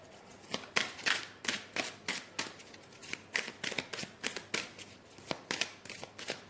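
Tarot cards being shuffled by hand, a rapid series of crisp riffling bursts repeating steadily at close range with no voices over them.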